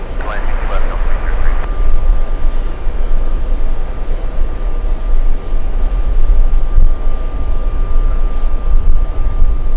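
An airliner in Alaska Airlines special livery at JFK airport, a broad steady jet engine roar filling the scene, loud and continuous with a faint whine over it.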